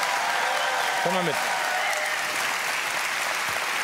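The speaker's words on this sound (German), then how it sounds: "Das ist dein Applaus." Steady applause from a television studio audience fills the scene, with a brief voice speaking over it partway through.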